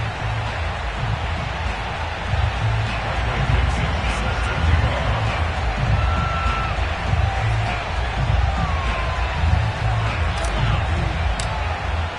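Stadium crowd for a Buffalo Bills versus Washington NFL game in an EA Sports football video game, a broad, steady roar of cheering fans with occasional whoops and whistles throughout.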